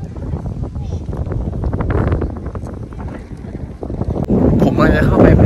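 Strong wind buffets the microphone in loud, continuous gusts while walking into a windmill village in the Netherlands, with the rumble swelling toward the end.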